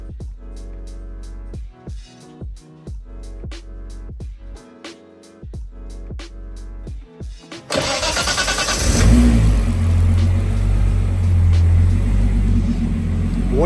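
A 500 hp Nissan R32 fitted with baffle-kit exhaust covers is cranked with a series of sharp rhythmic starter turns, then fires up and revs loudly, settling into a rough, droning idle close by.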